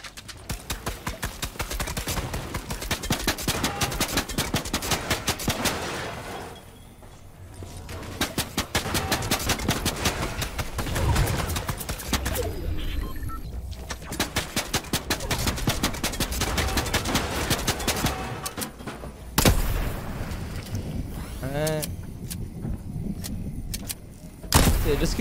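A Dragon Breath exotic sniper rifle fires repeatedly in a video game, sharp shots cracking out at irregular intervals over a busy layer of in-game noise, with a couple of brief quiet gaps between volleys.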